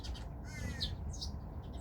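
Birds call outdoors on a clear morning beside an unpaved path, with a crow cawing among them. The calls are faint and distant over a low, steady background rumble.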